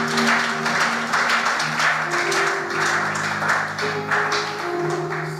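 A church conference congregation claps together, a sustained dense roar of hand claps with music playing underneath throughout.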